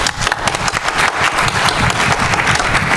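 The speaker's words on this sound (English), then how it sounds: "Give him a round of applause" Loud, close applause from a conference panel audience, many hands clapping in a dense, sustained roar with some low-end thumping, no talking over it.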